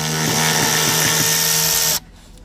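A power tool whirs steadily and loudly up close for about two seconds, backing out a bolt from the heater core housing of a Fox-body Ford Mustang, then cuts off.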